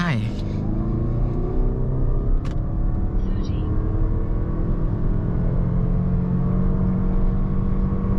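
A Lexus NX450h+ F Sport plug-in hybrid SUV held on the brake before a launch, giving a steady, loud engine and motor hum with a high whine that fades near the start, plus a brief click, and talk over it.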